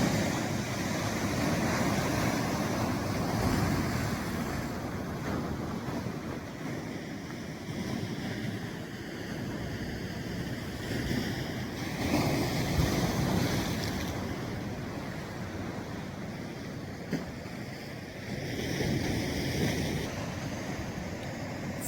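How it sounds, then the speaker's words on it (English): Powerful sea waves crash and surge along the coast at Skinningrove, a loud rolling roar that swells and recedes in repeated surges, mixed with gusty wind buffeting the microphone and no voices. "So powerful these waves are."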